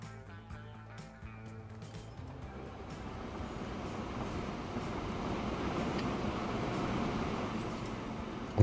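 A train in Transport Fever 2 pulls out of a station, a steady rumbling rolling sound that slowly builds in loudness over several seconds, with no talking.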